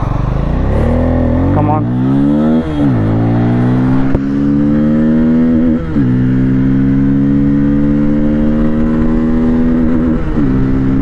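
A Bajaj Pulsar N250 motorcycle accelerates hard and close, its engine note climbing repeatedly through the gears with short dips between shifts and a brief spoken word over it.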